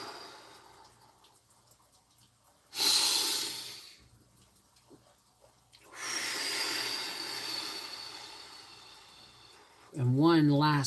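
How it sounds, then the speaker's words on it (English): Deep breathing during a guided breathing exercise comes as a short, loud airy inhale, then a long, drawn-out exhale, with a voice starting at the end. "Nice deep breaths."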